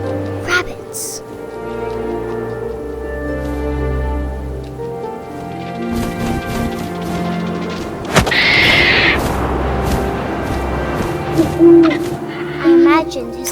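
An owl hoots within the game What Remains of Edith Finch, set among wind and night ambience, with a narrator speaking throughout and a brief rain-like patter in the middle.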